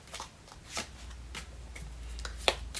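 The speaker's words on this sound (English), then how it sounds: "let's give this a good shuffle and see." A deck of cards is shuffled during a tarot-style card reading, giving soft, quiet riffling and flicking bursts in several short passes, ending with a sharper tap.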